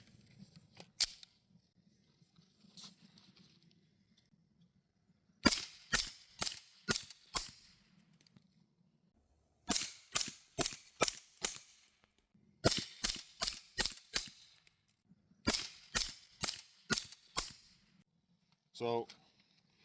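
Suppressed B&T APC9K SD-2 submachine gun firing 147 grain subsonic ammunition, four quick strings of sharp, snappy shots with a mechanical clack, each burst of four to six rounds separated by pauses, with faint background hum between.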